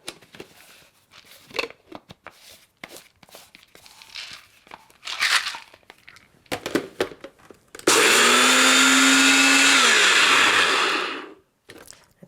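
A kitchen blender whirs loudly for a few seconds, chopping pecans into small crunchy bits in a single steady burst, after quieter handling sounds and clatter.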